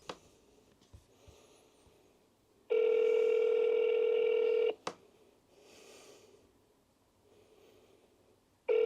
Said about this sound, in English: I'm going to phone some of our customers.